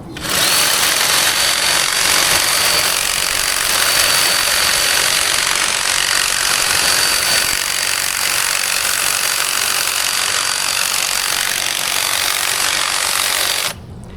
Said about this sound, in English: the other way of doing it is with a hedge trimmer